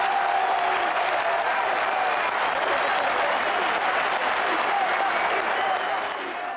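Dense roar of a rugby stadium crowd cheering and applauding at the 1991 Rugby World Cup, steady and loud throughout, fading slightly at the end.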